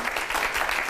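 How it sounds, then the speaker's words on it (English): Studio audience applause on a cooking show, a steady dense wash of clapping heard up close for about a second with no talk over it. "let's give Stephanie a round of applause"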